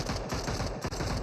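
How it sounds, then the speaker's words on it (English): Rapid bursts of automatic gunfire in the PUBG Mobile battle royale game crackle loud and close, overlapping shots firing in quick succession across the brief moment. "Gunshots overhead."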